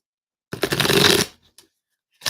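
Tarot cards riffle-shuffled close up in a single dense burst of under a second, followed by a couple of faint taps and then a brief second shuffle starting.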